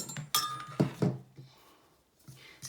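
A fork mixing homemade paint ingredients with water in a bowl, a few quick clinks and scrapes of metal against the dish, close and fairly quiet, then a brief lull.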